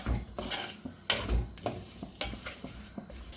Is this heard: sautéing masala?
yes